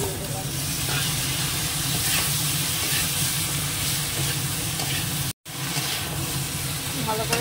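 Salted food with coriander-cumin powder sizzles steadily in a pan while being stirred and sautéed, a continuous close hiss with a brief gap near the end.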